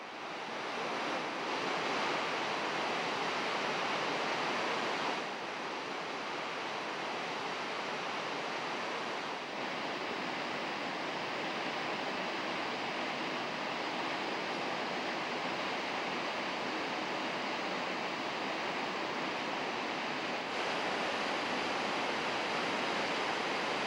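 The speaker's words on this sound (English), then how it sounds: "the Rhine violently cascades an average of 700 cubic meters of water per second" A massive, continuous roar of the Rhine cascading over Europe's largest waterfall near Schaffhausen, 150 meters wide and 23 meters high, dense and unbroken, heard up close.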